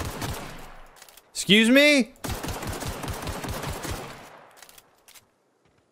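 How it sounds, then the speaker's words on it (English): Gunfire in the video game The Outer Worlds rattles off in a fast burst of shots, mixed with in-game sounds and a voice speaking briefly, then fades to silence. "I'm shooting at you."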